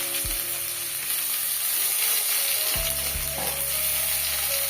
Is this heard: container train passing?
no